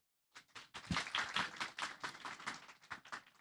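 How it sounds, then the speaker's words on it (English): Applause from an audience at a tempeh talk or seminar greets a professor being introduced as the first speaker: a dense, steady patter of many hands clapping that starts abruptly and carries on for about three seconds without voices. "Our first speaker, please give a round of applause for Professor Made Astawan."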